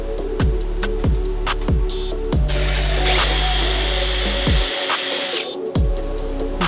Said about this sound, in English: You set it on your crotch and drill straight into it.